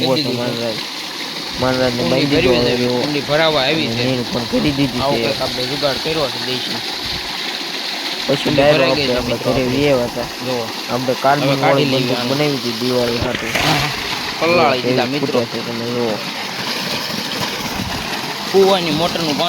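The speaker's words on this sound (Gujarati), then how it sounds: "કૂવાની મોટરનું પાણી આવે છે" A well's motor pump pours water into a cattle trough on a farm, giving a steady, loud rush that continues under almost constant talking.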